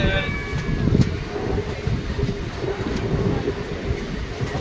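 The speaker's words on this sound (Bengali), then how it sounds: "ট্রেনটা ধীরে ধীরে কার্ভটা নিচ্ছে" A Rampurhat–Jasidih MEMU passenger train rumbles slowly around a curve on a hilly Jharkhand line during the monsoon, its steady low clatter mixed with wind noise and a faint squeal at the start.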